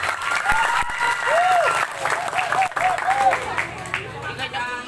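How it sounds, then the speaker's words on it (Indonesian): Audience applause and cheering at an Islamic boarding school gathering, a steady crowd clapping that fills the whole stretch with some voices and whistling tones mixed in. "Tepuk tangan untuk pasantren Al-Hidayah."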